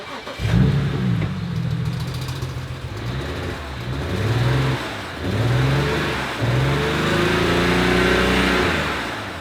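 A BMW engine, just repaired, cranks and fires up, then revs in several rising and falling surges at close range with a steady idle between bursts; no one speaks.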